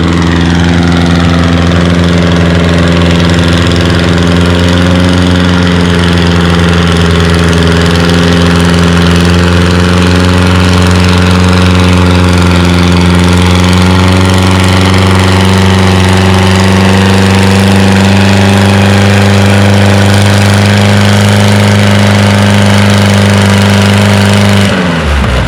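Pulling tractor engine in a 3,000-pound, 3 mph King of the Hill class tractor pull at the Othello Spring Nationals on a watered track, roaring very loud and steady at full power throughout the run before cutting off abruptly.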